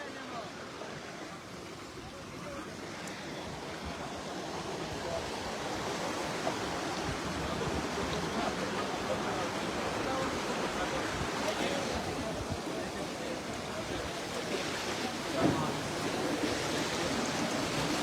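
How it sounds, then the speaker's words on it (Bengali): Fast, strong river current rushing beneath the Dhaka–Sylhet railway bridge over the Khowai River, a dense continuous roar of water heard alone and close. "দেখেন পানির কতটা স্রোত, পানির স্পিডটা অনেক"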